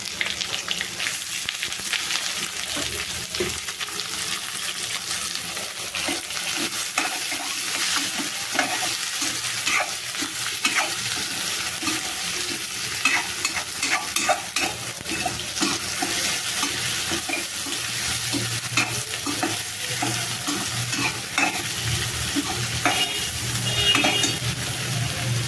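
Onions sizzle in mustard oil for a chicken dish, stirred continuously with scraping and clinking against the pan over a constant dense frying hiss that runs the whole stretch, close and loud with no voices.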